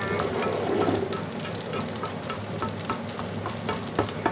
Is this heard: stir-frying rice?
yes